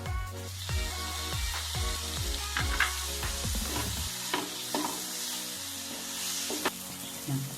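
Chopped tomato goes into a frying pan with onions and sets off a continuous sizzle and light stirring scrapes, heard beneath background music.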